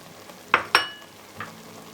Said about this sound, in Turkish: Ve hepsini birlikte çok güzel bir şekilde kavuruyorum.